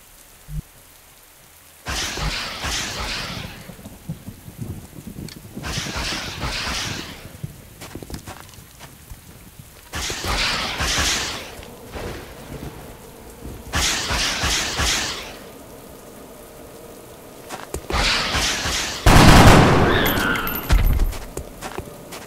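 Gunfire and explosive bursts from the video game XCOM Enemy Unknown come in several loud, noisy volleys of a second or two each, separated by quieter gaps, with the heaviest burst near the end.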